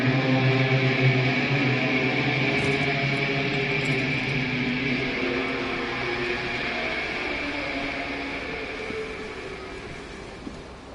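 A Caprice Canema motor carriage engine in the video game Disco Elysium drones in a loud, steady, rumbling roar that holds for the whole stretch and fades slightly toward the end.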